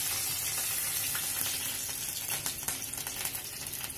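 Chopped garlic hits hot oil with cumin seeds for arhar dal, producing a loud, steady, close sizzle with crackling pops throughout and no talk.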